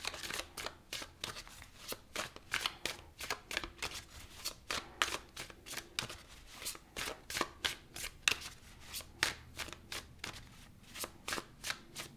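Tarot cards are shuffled by hand in a rapid, regular series of crisp riffling snaps, close and clear, with no voice.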